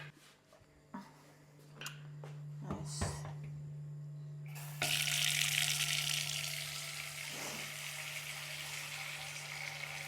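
A kitchen tap turns on and water runs into a cooking pot, a steady rushing stream that starts midway after a few clinks and knocks, with a constant low hum underneath; no talking.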